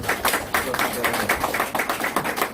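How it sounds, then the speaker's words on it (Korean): Audience applause at a Korean political talk concert, a steady wash of many clapping hands filling the room, dense and fairly loud throughout the short burst with no gaps. "박수 한번 주시죠"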